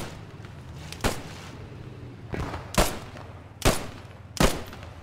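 Gunfire in the World War II shooter Post Scriptum, fought around a barn in Velmolen: four sharp, loud shots or short bursts spaced a second or so apart, each with a brief echoing tail, over a low steady background.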